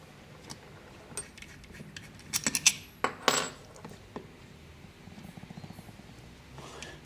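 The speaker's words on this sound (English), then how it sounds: "We'll just take these bolts out and put them to one side." Bolts come out of a stripped-down Bosch Gen 4 e-bike motor and are set down, giving sharp metallic clinks and small clattering taps in short bursts with quiet gaps between.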